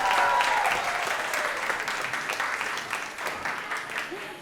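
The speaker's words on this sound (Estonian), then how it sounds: "Teeme suure aplausi meie ootamatule helimehele" Audience applause at a Christmas dance-studio concert, a dense wash of many hands clapping that starts loud and gradually tapers, with some voices mixed in.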